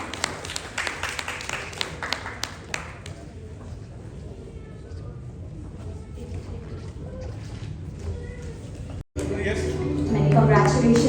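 Applause at an excellence awards ceremony in Delhi, crowd clapping that starts sharp and close, thins into a softer steady patter, then swells again, with an announcer talking over it.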